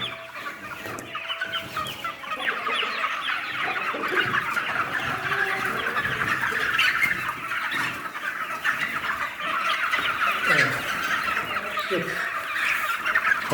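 A dense chorus of many 56-day-old chicks clucking and peeping nonstop at their feeders, close by and fairly loud, with faint clattering underneath.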